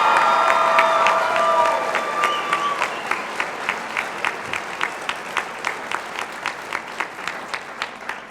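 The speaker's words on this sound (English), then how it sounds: "one more time, please give yourself a round of applause" Graduation ceremony audience applauding: a large, loud wash of dense clapping that gradually thins into slower, steady rhythmic claps, with faint cheering early on.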